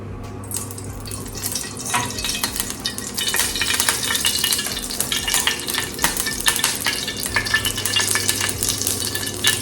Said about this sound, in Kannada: ಫಸ್ಟು ಫ್ರೈ ಮಾಡಿಕೊಂಡು ಹಾಕಿ ಆಮೇಲೆ ಒಗ್ಗರಣೆ ಹಾಕೋಣ ನಾವು